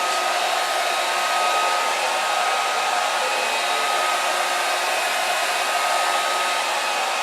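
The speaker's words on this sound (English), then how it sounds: "take you a hair dryer and just warm up your wood" A hair dryer blows steadily on a wooden flute blank with a constant whooshing hum the whole time, close and fairly loud, with no voices.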